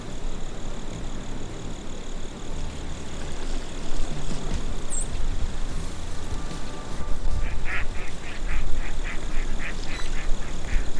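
Ducks quacking during a December duck hunt in Mississippi, loud repeated quacks and honks close by, with a rapid series of calls near the end over a steady outdoor background.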